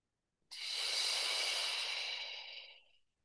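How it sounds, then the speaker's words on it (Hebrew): A long, steady inhalation during a yoga breathing exercise, heard close and alone, starting abruptly, holding evenly for over two seconds, then tapering off into silence. "עצירת נשימה ועוד שלוק לגב."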